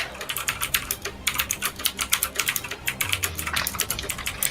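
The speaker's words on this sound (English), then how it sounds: "Tyler, you're typing furiously." Rapid, furious typing on a mechanical keyboard, dense clacking keystrokes in fast irregular bursts, close and crisp, with a brief pause midway.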